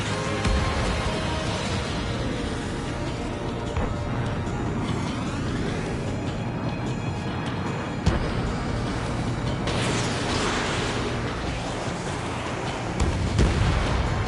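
In a PS4 flight combat game, a missile launch and explosions form a sustained, loud roar of blasts and rumbling booms, with a sharp hit midway and heavier bursts near the end.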